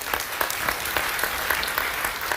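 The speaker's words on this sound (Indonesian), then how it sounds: "sekali lagi tepuk tangan untuk semua teman-teman imigrasi" Applause from an evening audience at an immigration office gathering in Indonesia, a dense steady wash of clapping for about two seconds, close and fairly loud with no talk over it.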